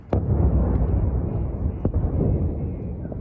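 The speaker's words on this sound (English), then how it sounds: "From 7 this morning, explosions could be heard across the city." Missile explosions in Kyiv, Ukraine's capital, during a Russian attack: a loud, deep blast opens the clip, followed by continuous low rumbling and a second sharp boom near the two-second mark.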